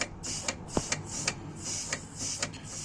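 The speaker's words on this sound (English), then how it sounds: "see if we can hear this wastegate moving inside" Turbo wastegate actuator being pushed with compressed air, a faint series of small clicks and ticks with hissy bursts of air at a steady rhythm, quiet and close.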